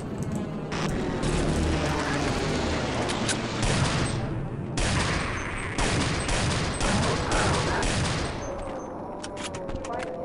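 Desert Eagle pistol fire in the video game Half-Life: Delta Particles, with rapid, loud repeated shots in dense bursts that continue almost nonstop, under a faint background voice.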